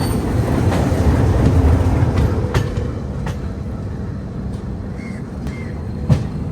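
Humsafar Express train on its route out of Chennai, a locomotive rumbling in with steady clickety-clack of railcars and occasional faint wheel squeals, loud and continuous without voices.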